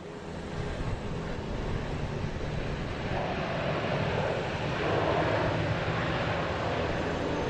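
A Delta Boeing 737-800 airliner arriving from Cancun, a broad continuous jet engine roar that stays loud and swells slightly toward the end, with wind rumble and no talk.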